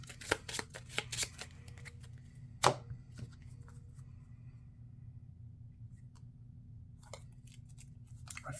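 A deck of cards is shuffled during a Marvel Champions card game, giving a quiet run of quick riffling snaps at the start and a single sharper flick later, all faint and close over low room hum.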